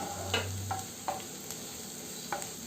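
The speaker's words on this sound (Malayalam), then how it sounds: "ഇനി ഇതെല്ലാം കൂടി നല്ലതുപോലെ വഴറ്റി കൊടുക്കാം" Sliced ginger, garlic, green chili and onion sautéing in a pan for beef roast, with a soft continuous sizzle and a few sharp scrapes of a spatula stirring, close and quiet, with no talk.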